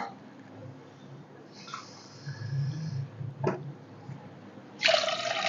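After a quiet stretch with a soft clink, water for sugar syrup gushes loudly into a pot near the end, a short splashing pour close by.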